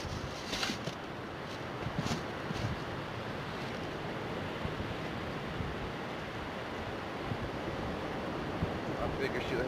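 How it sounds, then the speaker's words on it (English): Surf and wind along an Oregon coast beach at midday: a steady, loud broadband wash of waves with continuous wind buffeting the microphone, and no voices. "Midday, perfect surf, perfect waves, perfect wind conditions."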